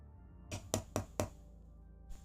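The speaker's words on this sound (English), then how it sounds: "Rodney taps on the glass to Miss Ottenstein's door" Knuckles tap on the glass pane of a door in an audio drama: four quick, crisp knocks in a row, then a single softer tap after a pause, close and clear against quiet.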